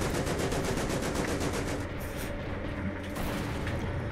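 Dense, continuous gunfire and tank cannon fire from panzers in the video game Ravenfield, a loud unbroken barrage of rapid shots and booms with no voice over it.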